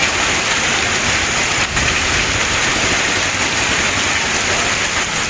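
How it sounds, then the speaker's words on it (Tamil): Heavy rain pouring down in the Kumbakonam area of Thanjavur district, a dense, loud, unbroken hiss of water drumming on surfaces with no pauses or voices. "தஞ்சாவூர் மாவட்டம் கும்பகோணம் சுற்றுவட்டாரத்தில் 1 மணி நேரத்திற்கு மேலாக கனமழை கொட்டியது"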